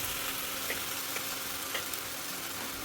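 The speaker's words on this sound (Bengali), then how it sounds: "এবার আমি ভালোভাবে নেড়ে চেড়ে নেবো।" Egg chicken pasta in sauce sizzles and fries in a pan while being stirred, a steady dense crackle with occasional soft scrapes from the stirring and no voices.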